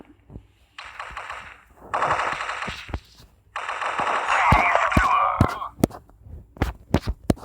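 Automatic weapon fire from the video game Crisis Action comes in rapid bursts separated by brief pauses, followed by scattered single shots and sharp clicks toward the end.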